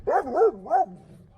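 A dog barking inside a 2004 Chevy Trailblazer, three quick close barks in a short burst followed by quiet, with no talk.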